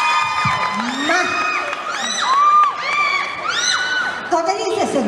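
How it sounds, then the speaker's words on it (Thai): Crowd of young women in a mall audience screaming and shrieking in high, sweeping bursts at a Thai concert event, loud and close, with overlapping whoops and cheers rising and falling throughout. "ขอเสียงสาวๆกรี๊ด"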